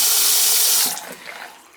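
A repaired Delta faucet runs water into a sink in a steady loud gush, then shuts off partway through, leaving faint drips and trickling.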